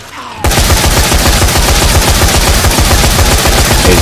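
Video game machine gun fire bursts in after a short pause and runs as one loud, rapid, continuous stream of close shots to the end.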